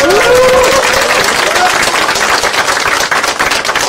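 Audience at a party's second-anniversary ceremony applauding and cheering, a dense, steady wash of clapping and crowd noise held at full loudness for the whole stretch, with a brief whistle-like tone near the start.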